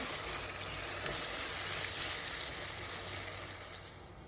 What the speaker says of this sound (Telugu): ఇప్పుడు నేను టమాటాలు అయితే యాడ్ చేసేస్తున్నాను.